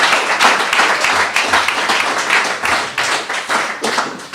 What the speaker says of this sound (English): that's where you clap, and it sounds good for the tape